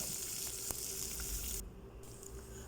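Chopped onions sizzle steadily as they are stirred into spices frying in hot oil for a vegetable kurma, a continuous close hiss that briefly dips before resuming.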